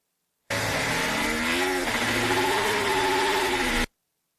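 Formula 1 car engine at a wet qualifying session, a loud sustained high-revving whine with shifting pitch as the car drifts, steady and close for about three and a half seconds with no talk.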